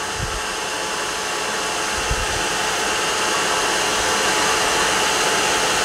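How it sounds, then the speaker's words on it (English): A surface grinder cuts a precision ground flatstone while a workshop vacuum runs, giving a loud, continuous machine roar and hiss close by with no talking. "I'll put the vac on now"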